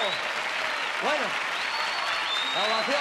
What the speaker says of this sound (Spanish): la ovación merecida para todos los jugadores de Guijuelo